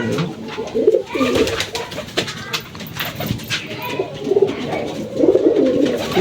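Pigeons coo repeatedly at the Matia pigeon market in Bangladesh, soft throaty calls rising in clusters over bustling market background noise with scattered clicks and rustles, fairly close.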